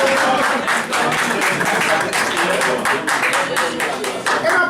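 An audience applauds loudly for a singer at an awards ceremony, dense continuous clapping from a large crowd close by and filling the whole span.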